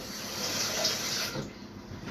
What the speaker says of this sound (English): Put me a little bit more water for those